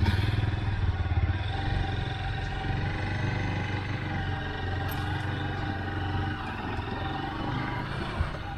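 Steady motorcycle engine droning as the bike rides along a small hill path, a close, continuous low rumble with some rattling clatter, no one talking.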